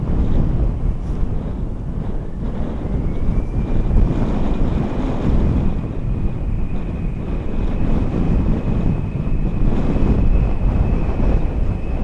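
Wind at Dublin Airport buffeting a microphone on a locked-down tripod, a loud, steady roar and rumble that continues throughout with no voices.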